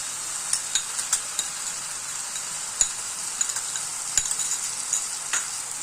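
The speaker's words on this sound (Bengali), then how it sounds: "ভালো করে মশলাটা একটু কষে নিই।" A spice mixture fries with yogurt in a pan for a jackfruit kofta curry, a steady close sizzle broken by frequent sharp scraping clicks from stirring.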